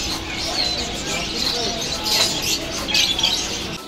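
Birds on sale at the Bird Market street in Kabul chirp and coo in a busy mix, with scattered tweets over street murmur and faint voices.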